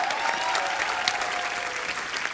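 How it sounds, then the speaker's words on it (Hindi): Enthusiastic studio audience applause on a comedy talk show, a dense, steady wash of many hands clapping at moderate distance, with a faint tonal hum running beneath. "जोरदार तालियां"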